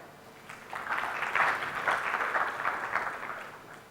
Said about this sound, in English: Please applaud the guy.